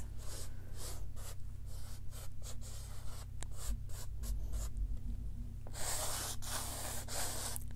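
Chalk scratches and rubs across a drawing surface in short, uneven strokes, followed by softer smudging, quiet and close with no voices.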